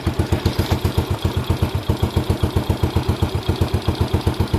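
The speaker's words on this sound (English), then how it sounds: "Motor's running fine." A freshly assembled Postie Bike motorcycle engine idles close up with a fast, even thumping beat and mechanical clatter, running alone without talk; the muffler is split along a seam.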